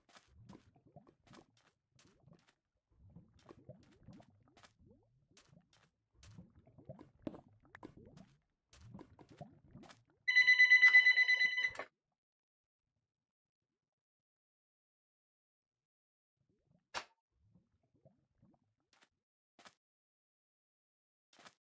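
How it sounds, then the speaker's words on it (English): A telephone rings once in a single buzzing electronic burst of about a second and a half. Apart from that the room stays near silent, with only faint scattered clicks. "You know I hate it when the phone rings when I'm streaming."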